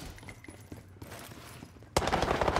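Rapid automatic gunfire from a low-recoil gun in a first-person shooter, quieter bursts of shots at first, then a louder, close sustained stream of fire over the last second.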